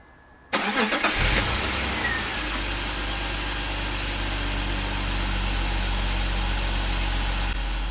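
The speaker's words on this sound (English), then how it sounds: "I'm going to turn the car back on and see if I can get a better idea of where it's leaking from" A BMW E46 with a coolant leak, suspected at the water pump gasket, cranks and starts after a short silence, then settles into a steady, close, loud idle with no talk over it.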